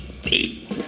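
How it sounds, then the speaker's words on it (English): A single close, loud burp lasts under a second, with a throaty rasping onset and a short second gurgle at the end. "I can also burp my ABCs."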